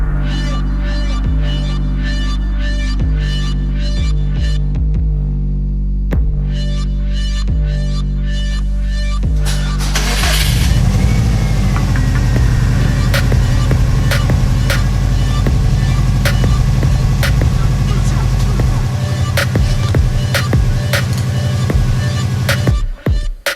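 Car engine idling steadily after a custom oil cooler install, a low continuous throbbing hum with a faint whine and some clicks above it, running close and evenly throughout with no talk.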